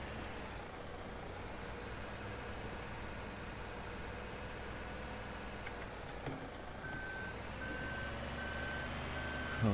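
Reversing alarm beeps from a truck being loaded during park clearing for landscaping, a steady engine drone underneath and intermittent high beeps standing out in the latter half.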